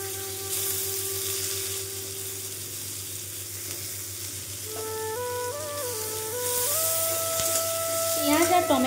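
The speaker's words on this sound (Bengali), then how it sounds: "এই যে পেঁয়াজ আর টমেটো দুটোকে ছেড়ে দেবো এর মধ্যে" Onion and tomato fry in hot oil in a pan, a continuous sizzle under a steady kitchen hum, with brief clinks and stirring toward the end.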